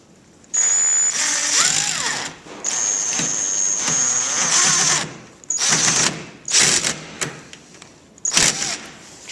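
Power driver sinking screws into pre-drilled holes on a wooden backyard chicken coop with hardware cloth, several loud whirring bursts of varying length separated by short pauses, close up and with no talking.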